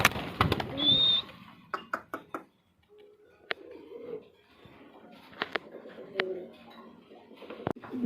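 A green-necked Tiger Gribas high-flying pigeon coos softly nearby among scattered clicks, taps and handling noises, with a person speaking at times.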